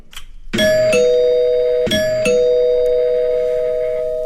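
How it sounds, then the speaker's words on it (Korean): A doorbell chimes two ding-dong rings in quick succession, each bright two-note tone ringing out and lingering, heard alone as a sound effect in a Korean horror radio drama. "세 번째 초인종이 울리고서야"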